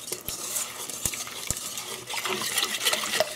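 A whisk stirs a gluten-free flour blend with dry ingredients in a bowl, making brisk close scraping and rattling with a few sharp taps against the rim, no talking.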